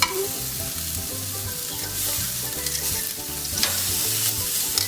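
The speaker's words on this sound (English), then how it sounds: "I'm going to take the protein and put it salted side down right over the direct flame" Salted steak sizzles steadily on a grill over a direct, high-heat flame, a close, continuous crackle and hiss with no talking.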